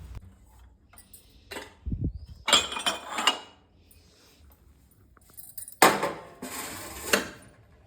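Dry steel dishes in an Indian home kitchen are stacked and put away, giving bursts of clattering, clinking metal and a low thump, with quiet gaps between the handling.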